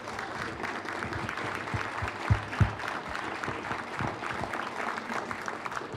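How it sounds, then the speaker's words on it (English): A crowd claps steadily at a ceremony to honor the 9th and 10th grade orchestra from White Bear Lake High School on a new stage. The applause holds a fairly even level with a few louder claps near the middle. "I just want to have one more round of applause for the amazing 9th and 10th grade orchestra from White Bear Lake High School"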